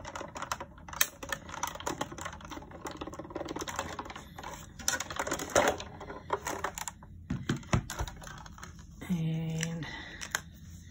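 A Go-Cut die-cutting and embossing machine being cranked with paper fed through, a series of irregular clicks and ratcheting clatter close by, ending in a brief whirring squeak.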